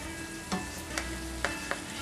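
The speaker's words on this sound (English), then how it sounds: "And this should be done on high heat now at this point, because there's moisture from the meat, and so nothing's going to burn." Meat frying on high heat in a pan, a steady close sizzle with four short clicking stirs of a utensil scattered through, no talking.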